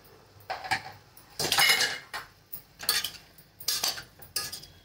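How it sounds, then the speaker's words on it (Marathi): A utensil stirs spices and pieces of potato and eggplant in a pan for a dry home-style curry, making several distinct scraping, clinking strokes spaced about a second apart, close and clear with no talk. "परत चांगलं एकदा हलवून घ्यायचं।"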